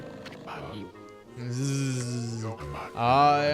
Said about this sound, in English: can you hear snoring from underneath this jug?